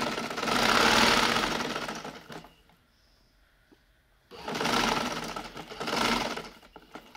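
Stitching the side-slit seam of a kurti, a sewing machine whirs in close, loud bursts: one of about two seconds, a pause, then two more surges, with a slightly knocking mechanical texture.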